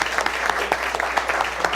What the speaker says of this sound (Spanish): Creo que merece un aplauso este panel.